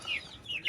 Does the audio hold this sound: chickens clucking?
yes